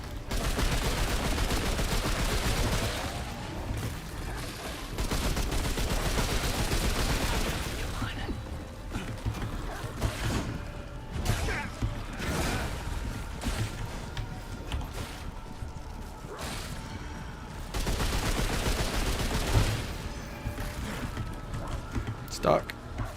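Gunfire during a boss fight in the Remnant II video game, with dense bursts of rapid shots and mechanical clatter in repeated volleys, a voice talking intermittently between them.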